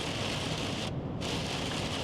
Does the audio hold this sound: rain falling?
yes